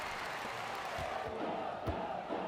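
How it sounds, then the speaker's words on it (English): Video game crowd in the NBA 2K23 basketball game, a steady dense arena roar with chant-like swells and a few louder shouts over about two and a half seconds, moderately loud throughout. "These are legit College Hoops 2K7 chants from the crowd."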